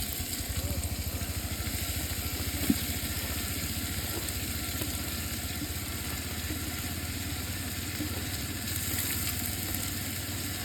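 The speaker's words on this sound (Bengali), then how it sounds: "ডালটাকে ভেজে নেবো প্রথমে" Lentils fry in a pot with onion and ginger that have already been fried, giving a steady, soft sizzle that runs evenly throughout with one brief clack partway through.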